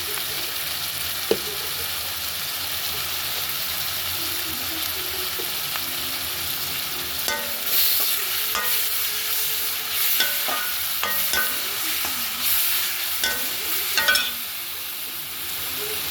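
Onions sizzle steadily as they fry with turmeric in a pan for quail gravy, with louder scraping stirs and clinks from about seven seconds on, close by and with no talking.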